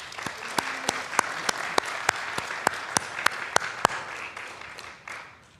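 A congregation at a Sunday service applauds, a dense wash of clapping with several sharp, louder claps standing out, fading away at the end.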